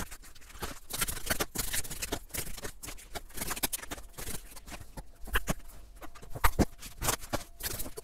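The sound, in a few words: tarot cards being shuffled for a draw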